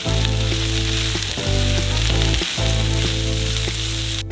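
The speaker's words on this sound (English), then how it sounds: "And as we fry it all up" Onions fry with thyme in fragrant oil from dried tomatoes, hissing in a loud continuous sizzle up close with a couple of brief stir breaks and no speech.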